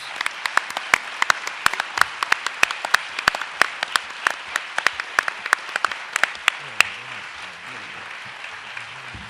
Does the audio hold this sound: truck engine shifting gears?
no